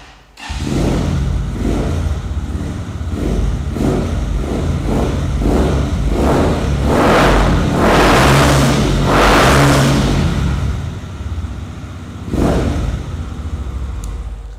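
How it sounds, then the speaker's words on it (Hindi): A Zhongshan-built 150cc Wing 150 motorcycle engine revs loudly and close, with a series of rising throttle blips swelling into longer, stronger revs before dropping back, with no talking. "और अब चेक करते हैं इस इंजन का साउंड नोट के Zhongshan ने ये इंजन कैसा बनाया"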